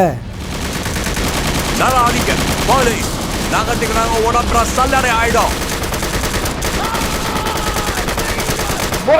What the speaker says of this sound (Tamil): டோனி துப்பாக்கி எடுத்துக்கிட்டு ஒருத்தனை விடாம வழியில மொத்த பேரும் சுட்டு